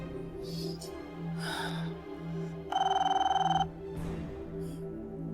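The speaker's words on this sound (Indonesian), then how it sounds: "Dewi, coba kamu telepon Isyan" A telephone rings as a call is being placed, a steady electronic trill lasting about a second, set against a soft looping background music bed.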